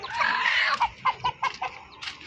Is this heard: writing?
no